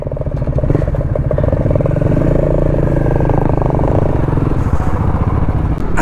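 A group of ten or more motorcycles riding together on a weekend ride towards West Sikkim, a loud continuous engine drone with rumbling and clatter close by throughout.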